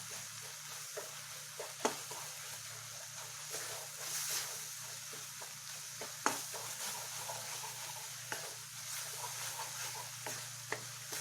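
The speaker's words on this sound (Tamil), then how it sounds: "நல்லா கிளறி விட்டுருங்க, சீக்கிரம் தீஞ்சிரும்" A paneer and beetroot fudge mixture stirred in a pan, faint steady sizzling with soft scraping strokes and occasional sharper clicks of the spoon against the pan, no voices.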